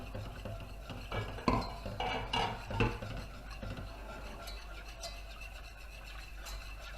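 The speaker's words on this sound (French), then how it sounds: "On va mélanger un petit peu avec le roux pour obtenir un velouté." A roux with court-bouillon being stirred over very low heat, giving soft scraping and swishing strokes, with a few louder utensil knocks against the pan early on and quieter steady stirring after.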